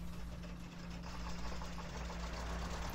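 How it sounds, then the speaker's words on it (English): Truck engine idling in the off-road game Spin Tires, a low, steady mechanical hum with a faint rhythmic knock, fairly quiet and unchanging throughout. "I need to damn start this engine."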